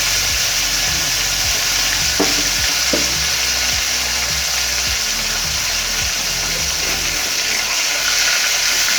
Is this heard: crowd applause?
no